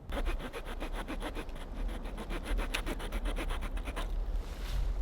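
A small hand saw from a survival tin cuts through wood in quick, steady back-and-forth rasping strokes, close and continuous, with a short lighter scrape at the end.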